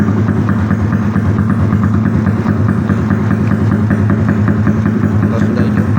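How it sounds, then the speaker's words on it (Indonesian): A motorcycle engine idling steadily on a street in Palembang, a loud, close, even rumble with a constant low throb and no talking over it. "Kita hidupin motor dulu."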